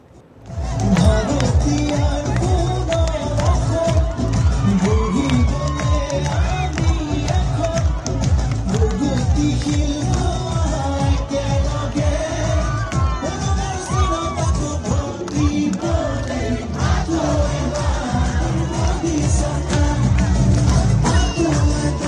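A dense crowd at a BJP election rally claps and cheers loudly, with whoops and shouting children mixed into a continuous, close roar of applause and chatter.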